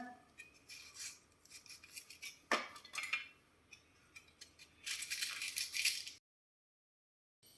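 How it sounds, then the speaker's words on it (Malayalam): Green chillies being slit with a knife for a Kerala fish curry, heard as a run of close, soft scraping and cutting strokes with a few sharper knocks, followed by a short silence. "ആദ്യം മുളക് കീറാം"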